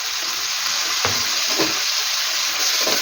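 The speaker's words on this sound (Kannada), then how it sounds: "ಈಗ 1 ಟೀ ಸ್ಪೂನ್ ಶುಂಠಿ ಬೆಳ್ಳುಳ್ಳಿ ಪೇಸ್ಟನ್ನು ಹಾಕ್ತಾಯಿದ್ದೀನಿ." Ginger garlic paste sizzles with onions and tomatoes in a pan for chicken gravy, a steady close hiss of frying with a few soft stirring scrapes, no talk.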